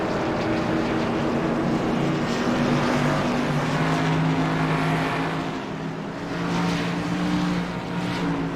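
ARCA Menards stock cars race around an oval track at night, their engines droning loudly and steadily with sustained tonal harmonics, several cars close together in the pack under caution-period pressure.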